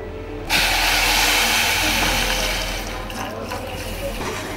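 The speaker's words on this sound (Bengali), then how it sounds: "তো এরপর জল দিয়ে দিলাম আমরা।" Water is poured into a pan while making khaja, a steady loud rushing pour with a hiss that runs without a break after a brief quiet start.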